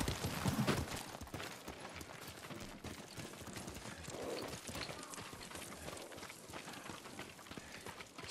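Horse hooves clip-clop steadily over the ground in the samurai video game Ghost of Tsushima, a moderately loud, continuous trotting rhythm with faint ambient outdoor noise and no talking.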